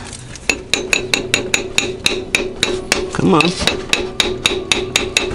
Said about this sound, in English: walk the hammer around it